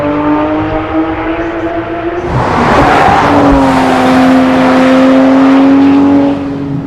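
A Porsche 911 GT3 RS engine and exhaust sing at high revs, a loud close wail that drops briefly on a shift before climbing again into a sustained sharp tone, with a rising rush as the car drives on.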